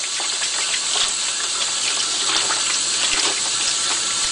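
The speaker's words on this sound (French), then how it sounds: "j'utilise de l'eau tiède" Lukewarm tap water runs in a steady, continuous gush into a sink, a loud broadband hiss that persists unbroken throughout with no talking.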